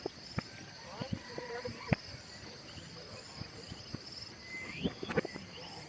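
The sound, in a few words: crickets chirping and birds singing at campsite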